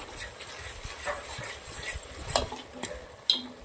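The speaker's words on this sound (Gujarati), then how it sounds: "2 મિનિટ સુધી આપણે આવી રીતે મિક્સ કરી અને સાંતળી લેશું મરચાંને" Kashmiri chili paste and garlic sautéing in a pan, stirred steadily with a soft sizzle and a couple of sharp utensil clicks against the metal.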